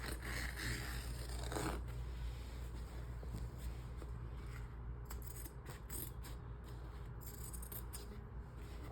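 Scissors snip through embroidery thread at the back of a machine-embroidery hoop with stabilizer, giving faint, close clicks and scraping over a steady low hum.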